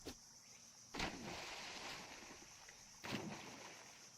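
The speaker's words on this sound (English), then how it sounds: "when you walk into the water and T-spawn over these wooden bars, makes a sloshing sound for your opponents" Footsteps slosh through shallow water in Counter-Strike 2 on the Ancient map, near the T-spawn wooden bars: two distinct splashy steps about two seconds apart over a faint background hiss.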